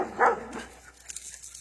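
Dogs barking outdoors on a cool day while running around, with one loud bark early on followed by fainter yips and whimpers at a moderate distance.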